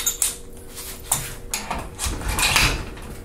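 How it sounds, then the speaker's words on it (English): A torque wrench set to 70 foot-pounds tightens a cartridge die part at a reloading bench, giving a few sharp metallic clicks and clatters spaced over a few seconds amid light handling noise. "So I've got my torque wrench. It is set to 70 foot-pounds."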